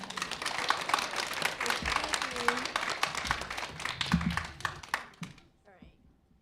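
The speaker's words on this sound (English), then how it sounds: "please keep the applause limited" A school board meeting audience applauds, a dense spread of claps lasting several seconds before thinning out and fading, with voices talking over it.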